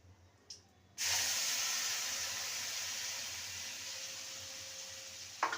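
Turmeric and Kashmiri chili powder added to a hot pan for a grilled fish curry: after a quiet second, a sudden loud hiss bursts up and holds steadily, easing slightly before a brief clatter at the end.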